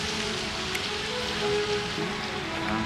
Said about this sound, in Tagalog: Ang ulan, mga kaibigan.